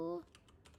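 Brief light tapping on a computer keyboard while typing Korean text, a few soft clicks following a short voiced sound at the start, close and quiet.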